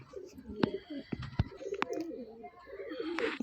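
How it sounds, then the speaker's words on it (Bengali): Green pigeons coo nearby in soft, repeated low calls, mixed with sharp clicks and scattered bird chirps in a pigeon-keeping setting. "দুটো সবুজ পায়রা দেখাচ্ছি দেখুন"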